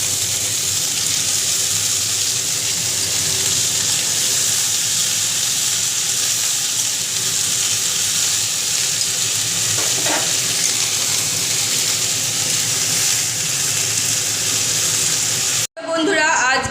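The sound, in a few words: cabbage cooking with beans, potatoes and tomatoes in a pan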